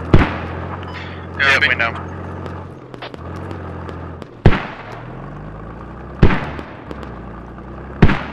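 Mortar strikes in a tactical multiplayer game: three sharp, loud explosive booms at regular spacing, each followed by a rumbling decay, under ongoing squad voice chat.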